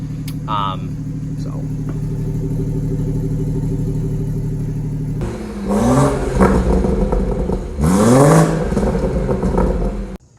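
A 2017 BMW M240i with an MBRP axle-back exhaust and catless downpipe idles with a steady, deep rumble, then revs sharply twice with a throaty exhaust roar before settling again.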